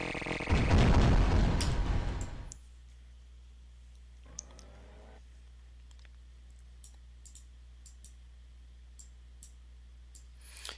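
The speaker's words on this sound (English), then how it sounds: "Just blow up the nitro." A nitro crate explodes in the Sploder platform game Escapee, a loud booming burst lasting about two seconds, followed by quiet game ambience with sparse soft clicks.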